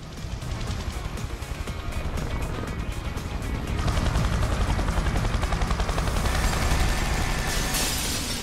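An attack helicopter in the video game Yakuza 6, with a loud continuous rotor roar and rapid chopping pulses layered with gunfire-like bursts, steady throughout and growing slightly louder partway through.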